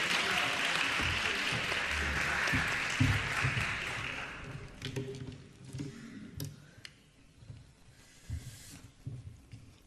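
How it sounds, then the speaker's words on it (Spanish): Audience applause at a conference panel session fills the first few seconds, then thins out into a few scattered claps and small rustles before going quiet. "Y un aplauso también"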